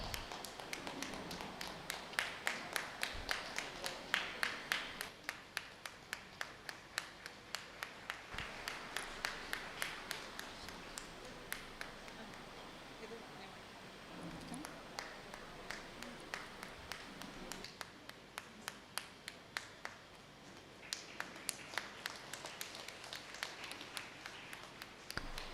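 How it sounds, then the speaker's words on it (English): Faint, steady clapping from an audience at a campus welcome event honoring prize winners and toppers, a long run of scattered claps that rises and falls in density over background murmur. "We can give a big round of applause for the prize winners, for the toppers."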